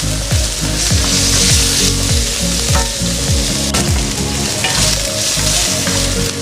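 Pork pieces for a menudo fiesta sizzle loudly in a hot pan, a dense steady fry with repeated scraping strokes of stirring running throughout, no voices.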